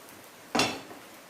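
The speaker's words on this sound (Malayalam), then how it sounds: "ചട്ടി ചൂടായി. ഇനി അതിലേക്ക് മാവ് നമുക്ക് ഒഴിച്ചു കൊടുക്കാം." Batter made from broken wheat and raw rice hits a hot pan for dosa, giving one sudden, close sizzling burst that fades within a fraction of a second, with quiet around it.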